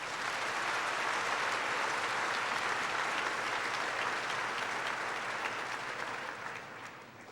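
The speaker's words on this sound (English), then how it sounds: "I would please ask everyone again to join me in a round of applause." A large crowd at the Wadsworth High School 2006 commencement applauds the valedictorian, a thick, roaring wash of clapping that stays loud and even, then slowly fades toward the end.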